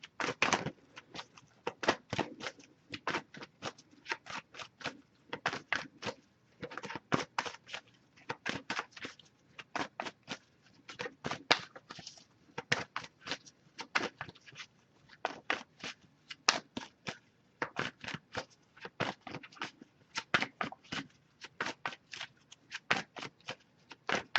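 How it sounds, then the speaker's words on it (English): Tarot-style oracle cards shuffled by hand in a close, steady run of crisp riffling bursts, repeating rhythmically for the whole stretch with no talking. "we'll pull a card from the Wisdom of the Oracle deck next"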